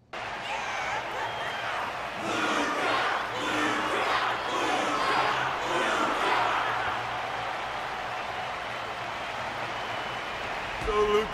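A video game arena audience cheers and applauds steadily after a fight in Honkai Star Rail's Luminary Wardance event, a broad crowd roar that swells and fades, then trails into quieter ambience.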